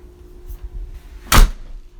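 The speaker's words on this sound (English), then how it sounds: "Closes like a drum. It's very solid." A solid, newly installed interior door in an old house under renovation swings shut with a single loud, deep thud, following some faint shuffling and handling noises.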